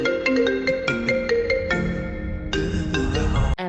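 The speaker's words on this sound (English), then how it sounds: "and I know it's my ringtone" A phone ringtone plays a repeating electronic melody of bright, evenly spaced tones, loud and close, cutting off abruptly near the end.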